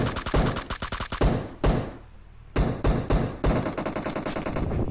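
Gunfire in the mobile game PUBG Mobile: rapid automatic bursts, then a short lull, then further shots with quick repeated cracks, loud and close.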